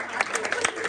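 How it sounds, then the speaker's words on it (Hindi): Children at a street-play safety demonstration about gas cylinders clap briefly in quick uneven bursts, several sharp handclaps over a second under the murmur of voices. "तालियां"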